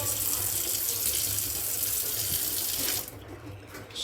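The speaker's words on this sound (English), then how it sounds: "See, that's cold water flow." Cold water gushes steadily from a tap, a constant hissing splash that drops in intensity near the end as the flow changes.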